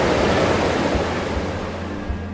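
Water surges and washes in a continuous roaring rush against the stone edge of a pond, loud and close, with no voices.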